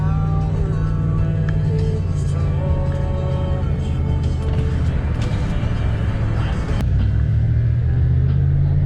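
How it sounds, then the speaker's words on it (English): A tuned truck with a high-mileage engine rumbles loudly and continuously nearby, its low drone rising and falling as it is revved moderately. "It definitely does make a difference, and I'm not revving it all the way."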